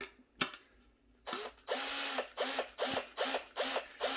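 A power screwdriver drives screws into a ClosetMaid closet organizer board, starting with a few isolated clicks and then settling into a run of short, loud, evenly spaced ratcheting whirs close by.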